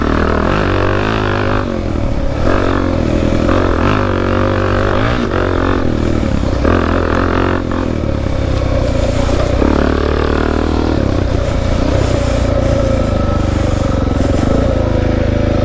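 Suzuki DR-Z dual-sport motorcycle ridden along a dirt trail, its single-cylinder engine droning steadily and loud throughout, with rises and dips in revs and occasional clatter from the rough ground.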